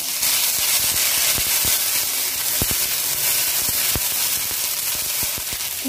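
Garlic and ginger sizzle in hot oil over a low gas flame, a steady close frying hiss broken by a few sharp pops and crackles.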